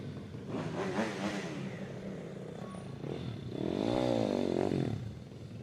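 Pit bike motorcycles coming in after a race at a motorcycle championship round in Kielce, engines revving and buzzing at moderate distance, rising and falling, with a louder rev swell near the end.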